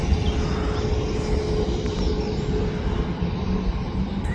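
A Jet2 airliner rumbles on the runway at Manchester Airport, a loud, steady low engine roar with a faint whine on top, continuous and unchanging, no voices.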